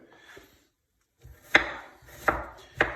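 A knife finely chops onion on a board: a soft tap, then three sharp, close strikes spaced roughly half a second apart, with nothing else around them.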